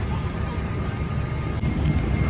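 Steady engine drone and air hum inside a PIA airliner cabin during boarding, loud and continuous with faint cabin noise.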